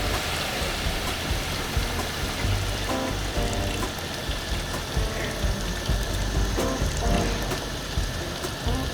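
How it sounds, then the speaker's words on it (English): About six liters of water are poured into a large cooking pot while making a Cajun dish, giving a steady splashing rush. The pour sounds fairly close and continues for the full nine seconds. "And now we're going to add 6 liters of water."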